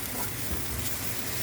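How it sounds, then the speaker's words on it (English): Vegetables sautéing in a deep dish pan, a steady dense sizzle and hiss with faint patter, close and continuous, no talk. "check out what I'm using to saute my veggies."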